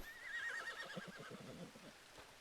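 Horse in a roleplay video game gives a short whinny, a wavering high neigh followed by snorting, breathy pulses, fairly faint and alone.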